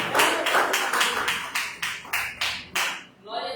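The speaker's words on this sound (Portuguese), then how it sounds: "Vamos receber a serva do Senhor com as palmas, adorar e exaltando Jesus, amém" Church congregation clapping in a slow, even rhythm of about nine sharp, close claps at a steady pace, fading into quieter sounds at the end, with no talking.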